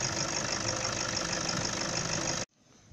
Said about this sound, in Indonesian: Kita biarkan idle sampai habis.